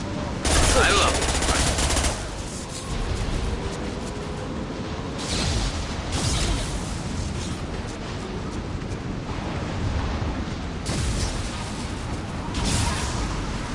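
Bursts of automatic gunfire from a Mass Effect 2 firefight crackle in loud broadband volleys, several separate bursts spread across the span with a rumbling backdrop between them.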